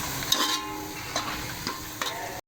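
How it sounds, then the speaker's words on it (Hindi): Onions sizzle steadily in a hot pan, with a few light clinks of a utensil stirring them close by. "तो आप देख रहे हैं प्याज जो है वो हमारी फ्राई होने वाली है।"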